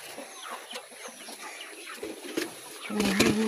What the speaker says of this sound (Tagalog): Manok. Ayan, mga manok.